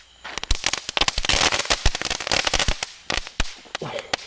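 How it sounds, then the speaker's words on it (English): Four crackling ball fireworks go off after the 4th of July, a dense rapid string of sharp pops and crackles bursting close by, loud and irregular for several seconds. "Now we've got 4 crackling balls that we're gonna go ahead and do."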